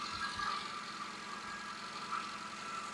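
A Maruti WagonR car engine idles steadily throughout, a smooth continuous hum with no revving, close by and alone with no talk over it.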